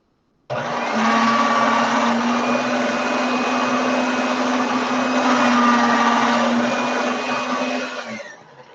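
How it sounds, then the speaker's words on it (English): A motorized pasta machine rolls liquid polymer clay, giving a loud, steady mechanical whir that runs unbroken for several seconds and then winds down. "I'm going to get this through the pasta machine again."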